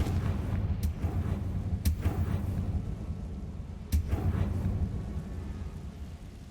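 Confringo blasting-spell explosions in Hogwarts Legacy, heard as a few sharp booming bursts over a dense rumbling game soundscape, with strong hits early and near the four-second mark.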